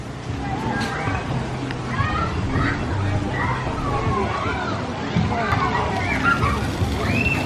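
Water splashes and sloshes at a resort splash pad and water slide, a busy outdoor wash of spray beneath distant crowd babble and children's voices.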